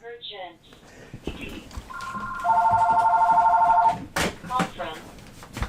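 A telephone rings with a pair of sustained electronic tone bursts, clear and nearby, among short bits of talk and faint handling sounds.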